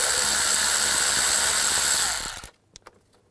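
A hand ratchet with a 10mm socket working on the engine cover nuts of a 2006-2010 BMW 550i 4.8L V8, a loud continuous rapid clicking up close that stops abruptly, followed by a few faint knocks.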